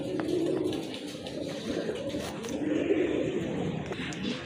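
Pigeons kept in a loft coo in low, soft, repeated throaty calls that overlap each other without a break, close by and moderately loud, with faint background noise.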